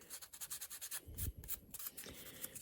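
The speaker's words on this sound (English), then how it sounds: "Now I got my 220 out, and I'm hitting this with a little bit of sandpaper to clean that up" 220-grit sandpaper rubbed by hand over a detailed wood carving of a wizard, soft rapid scratchy strokes in an uneven rhythm, close and quiet, with a couple of slightly firmer passes partway through.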